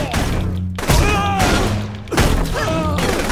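Heavy hammer strikes in the video game Saints Row: The Third land as a few loud, booming crashing thuds amid busy game sound effects.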